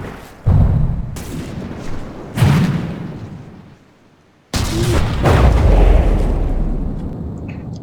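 Turret volley fire in a naval combat video game, three heavy booming shots spaced a couple of seconds apart, each loud and close with a long rumbling decay and a brief silence before the last, no talk.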